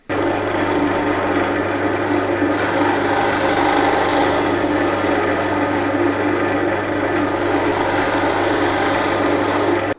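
Woodturning on a lathe, with a tool facing off and recessing a spinning wooden piece, giving a continuous loud hum and steady scraping rasp of the cutter against the wood for the full ten seconds.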